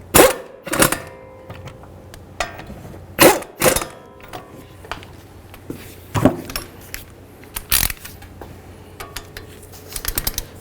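Wrench clicks and metallic ratcheting while caliper bracket bolts are tightened on a 2009-2020 Dodge Journey's front brakes, heard as several sharp, close clacks and rattles at irregular intervals with quiet gaps between.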